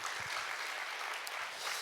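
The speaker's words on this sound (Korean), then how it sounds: "우리 큰 박수로 한 번 더 격려해 주시기 바랍니다." Church congregation at a Korean officers' revival meeting applauding in encouragement, a short burst of fairly faint, dense clapping heard from a distance.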